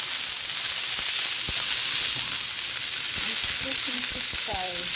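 Pechay greens sautéing with egg in a hot pan give a steady loud sizzle and hiss throughout, with occasional stirring clinks and a few faint tonal blips near the end.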